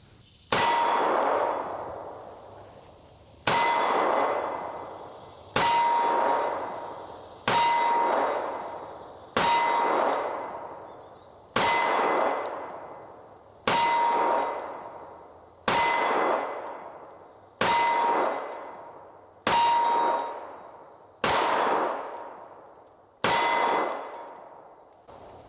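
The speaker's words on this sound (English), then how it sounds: "you're gonna start out with the CC9 on the target, just shooting for accuracy" H&K CC9 pistol rounds striking a metal target, each hit a loud ringing clang that decays slowly, about twelve evenly spaced impacts with no talk.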